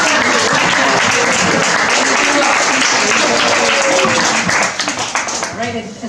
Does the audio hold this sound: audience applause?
yes